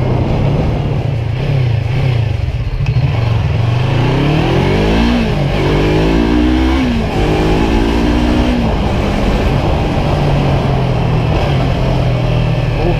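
A motorcycle on a city street revving up through rising gear sweeps and passing by, loud and close, over constant traffic rumble with other engines idling nearby.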